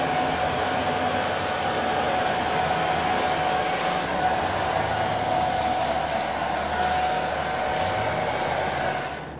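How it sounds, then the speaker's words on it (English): A hair dryer blows steadily and loudly up close, used on a car bumper to help vinyl stick, a continuous whirring hiss with a faint tonal hum that cuts off near the end. "You might use a hairdryer or a heat gun just on low"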